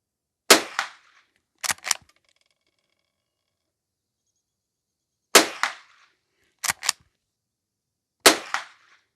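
Sharp, loud rifle shots from a Henry H001 lever-action .22 at a range, coming singly and in quick pairs with silent gaps between, with no talking.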